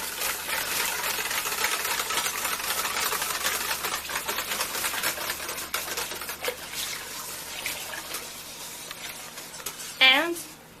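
Homemade laundry soap being whisked in a bucket, a continuous rapid sloshing and clattering that gradually eases off, with a brief tonal squeak right at the end.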